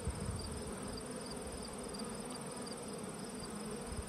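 Nurse bees taken from a hive frame make a continuous, close buzzing drone with slight swells in volume and no voices over it.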